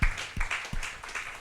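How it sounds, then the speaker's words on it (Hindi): A church congregation claps during a Hindi sermon, giving a few loud, evenly spaced claps in a steady rhythm with a crowd wash behind them. "अरे ताली तो बजाओ इस सुंदर वचन के लिए"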